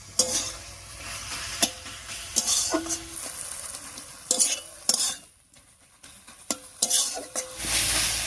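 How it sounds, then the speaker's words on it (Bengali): Taro leaves cooking down with prawns in a pan, stirred with a spatula: repeated scraping strokes over a steady sizzle, close and fairly loud, with a short quieter pause midway and no talking. "চিংড়ি মাছের সঙ্গে বেশ কিছুক্ষণ কচু শাকটা রান্না করে নিয়েছি"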